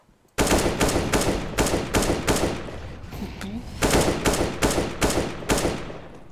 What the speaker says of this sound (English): Go mid, I'm gonna try and shoot him.